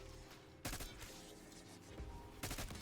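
Black Ops 6 Zombies gunfire comes in sharp, rapid bursts, two main volleys separated by scattered shots, all fairly faint and distant in the mix.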